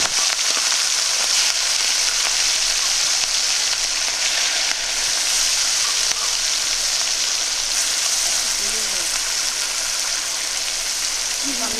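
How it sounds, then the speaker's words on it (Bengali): Prawns frying in hot oil, a dense continuous sizzle that holds steady and loud throughout with no breaks. "তেলটা গরম হয়ে গেছে মাছগুলো দিয়ে দিচ্ছি"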